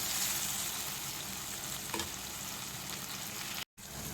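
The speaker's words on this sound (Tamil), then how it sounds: "தக்காளியை நல்லா வதக்கி கொடுத்துடலாம். 2 மினிட்ஸ் நல்லா வதங்கட்டும்." Medium-sized tomatoes sauté in a pan for squid gravy, giving a steady close sizzle with one faint stirring scrape.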